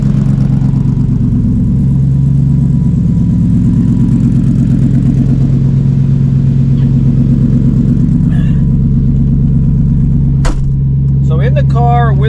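A Cobra Daytona's engine idles from inside the cabin with the windows up, a loud, steady low drone that dips slightly, with brief talk and clicks near the end.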